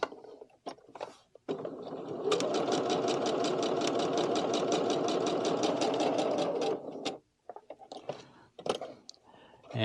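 A domestic sewing machine with a drop-in bobbin (Pfaff, Viking or Singer type) stitches a seam in a loud, close, rapid mechanical run of several seconds. Short clicks and handling noises come before and after it, and there is quiet talk around it.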